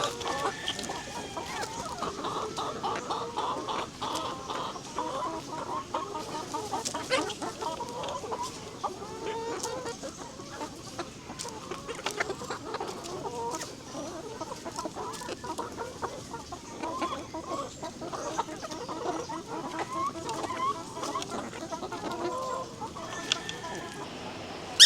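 Pet chickens in the Philippines clucking busily at snack time, a steady continuous chorus of close clucks and chatter with occasional louder calls, and a voice briefly speaking in the background.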